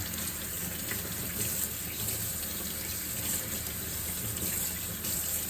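Running water rinses freshly foraged hen of the woods (maitake) mushrooms under a tap, a continuous loud close gushing with no talking.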